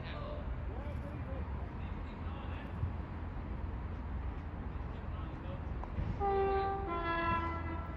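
A cross-country passenger train arrives at Didcot Parkway, its low rumble building beneath nearby talk before a loud two-tone horn sounds twice toward the end.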